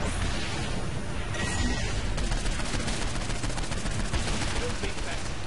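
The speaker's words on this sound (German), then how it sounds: "Ich schieß einfach nur." Continuous gunfire in Saints Row IV, dense rapid shots blended into a loud steady barrage with game noise, and speech faintly mixed underneath.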